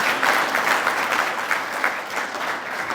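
Sustained applause from a dinner audience at a hotel awards evening in Sligo, steady dense clapping filling the room from start to finish with no pauses.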